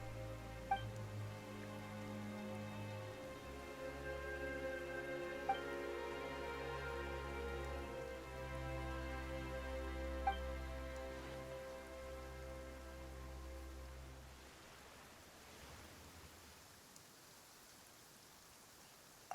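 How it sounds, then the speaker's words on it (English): Sudden rain in the video game Genshin Impact, a soft continuous hiss of falling rain beneath a sustained musical score that fades out toward the end. "Why is it raining all of a sudden?"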